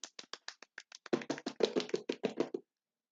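A small group claps briefly at close range, starting with a few sparse taps and swelling into a short burst of quicker applause before stopping abruptly.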